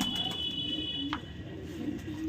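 Pigeon cooing in a loft of Haryana racing pigeons, low soft coos repeating over a steady background hum, with faint chirps, close and without talk.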